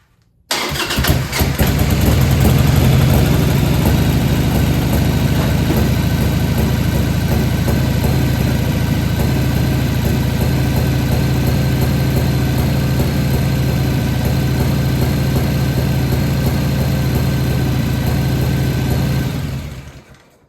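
Harley-Davidson Sportster motorcycle engine, just rebuilt after a tear down, cranking and firing up with the choke out, then settling into a loud, steady, rumbling idle that runs for about twenty seconds before cutting off.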